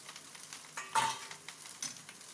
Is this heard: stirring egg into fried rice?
yes